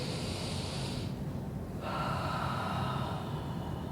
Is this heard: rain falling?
no